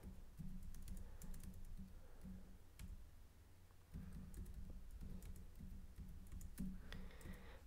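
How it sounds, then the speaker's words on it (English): Values are typed on a TI-84 calculator keypad: quiet, irregular plastic button clicks tap out in small bursts throughout, close and faint against a low background hum. "Okay, so I'm gonna type all of my X variables into L1."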